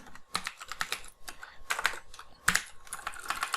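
Fingers type React JavaScript code on a computer keyboard, with close, irregular clusters of key clicks and a few louder strokes, and no talking.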